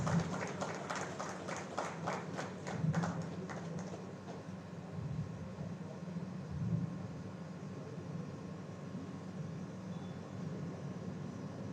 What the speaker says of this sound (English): A huge round of applause for Chandana and Chandana's parents